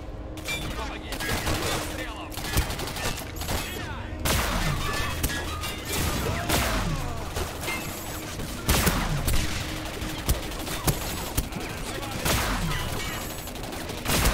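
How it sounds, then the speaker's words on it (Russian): In the shooter game Singularity, a Gauss gun fires explosive needles amid loud, continuous combat noise. Repeated sharp blasts and crashes ring out over a dense, roaring background. "Гаус, стреляющий разрывными иглами. Перед каждым выстрелом игра некоторое время заряжается энергией."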